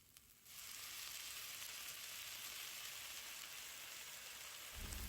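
Raw beef drops into a hot pan over high heat for Vietnamese stir-fried beef noodles, setting off a loud, steady, close sizzle that jumps up after a quieter first half-second and holds evenly to the end.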